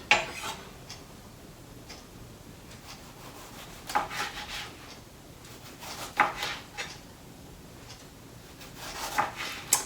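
A knife dicing tomato on a cutting board for veggie quesadillas, with irregular close taps and scraping rubs spread through a quiet room, no talking.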